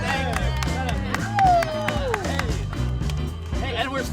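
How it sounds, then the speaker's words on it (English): A studio audience clapping for the host of a Maine lobster-themed dating show, rapid overlapping claps under loud music with some whooping, fairly close and continuous. "we're still clapping"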